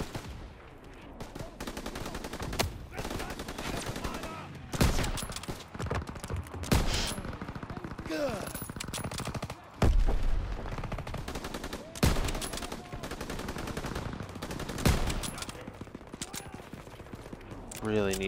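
Machine gun fire in Call of Duty WWII, rapid loud automatic bursts hammering close up amid heavy battlefield gunfire, with a few sharper blasts and brief pauses, and a voice talking over the fighting.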